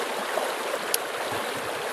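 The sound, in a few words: backcountry stream flowing at a water source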